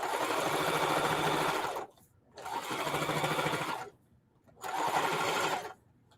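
A sewing machine runs a zigzag stitch on cloth for feedbag totes in three loud close bursts of buzzing, each about one and a half seconds long, separated by short pauses.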